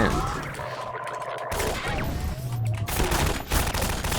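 Enemy gunfire in a Half-Life 2 firefight on hard mode, a dense crackle of rapid shots with bursts and impacts running steadily throughout, close and loud with game effects layered in.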